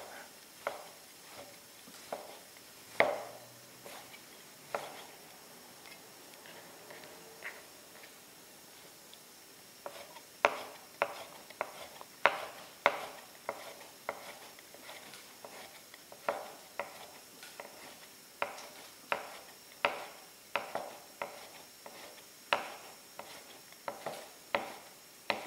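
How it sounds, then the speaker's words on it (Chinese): A knife dicing shiitake mushrooms on a cutting board, producing sparse, faint taps at first, then quicker irregular clusters of crisp chops in a quiet kitchen. "还可以把它切细一点，一会儿这个香菇炒出来特别的香"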